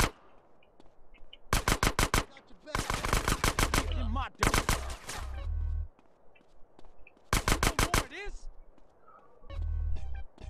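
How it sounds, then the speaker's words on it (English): A machine pistol in the video game GTA San Andreas fires in several rapid, loud bursts, each a dense rattle of shots separated by short pauses, with game sound effects and a voice talking in between. "Gotta level up this machine pistol."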